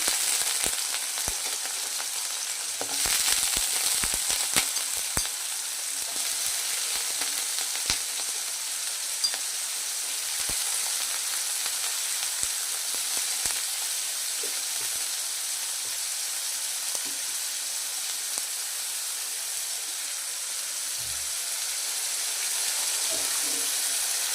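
Chopped potatoes and a cardamom pod hit hot oil already tempered with whole cumin in a pan, setting off a loud, continuous close-up sizzle dotted with crackles and pops, with a faint voice at times.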